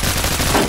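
Rapid automatic fire from a Honey Badger rifle in the shooter game Phantom Forces, a dense continuous burst of closely spaced shots filling the whole short moment.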